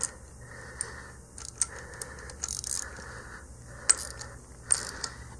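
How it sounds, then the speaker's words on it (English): Half-inch drive socket wrench with quarter-inch adapters tightening bolts on a scuba twinset manifold, soft ratcheting clicks and metallic ticks in short bursts, close but fairly quiet. "So I'm going to go ahead and start tightening this."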